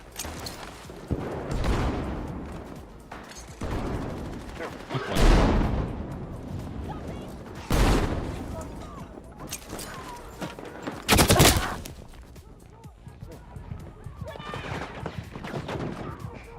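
LMR27 designated marksman rifle fired in a first-person shooter game, several loud, separated single shots at irregular intervals over a busy game background.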